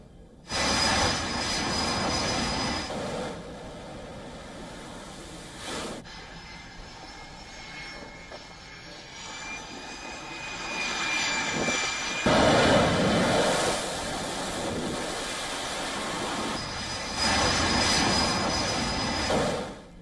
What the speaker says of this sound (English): fighter jets were shown taking off from an unidentified location